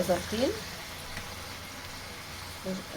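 Minced meat frying in a pan, a soft, steady sizzle at low level with brief speech-like voice fragments at the start and near the end.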